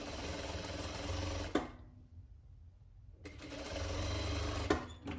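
A sewing machine runs steadily as it stitches a winter pajama, whirring in two bursts separated by a short pause, close and alone with no voices.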